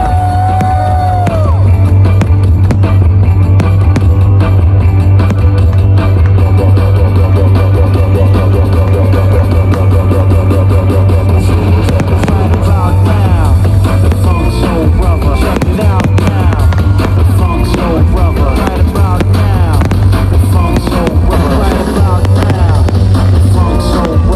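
Fireworks burst over New Brighton Pier during a Matariki festival night, a loud, continuous barrage of bangs and crackles with a crowd cheering and whooping throughout.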